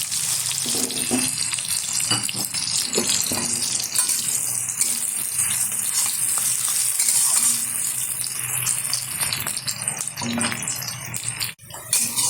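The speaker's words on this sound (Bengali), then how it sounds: "তেলটা গরম হয়ে গেছে, তেলের মধ্যে দিয়ে দিচ্ছি কুচিয়ে রাখা পেঁয়াজ।" Chopped onions fry in hot white oil in a wok, a loud, close, continuous sizzle with occasional stirring scrapes, lasting throughout with no one talking.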